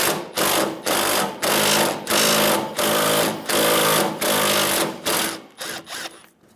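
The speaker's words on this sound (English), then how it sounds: "Using a 10mm socket, remove the bolt in the middle of the bumper." A power ratchet or impact driver working a 10mm socket on a bolt in the middle of a 2007-2011 Toyota Camry front bumper, close and loud, running in a rapid buzzing series of short bursts with brief pauses.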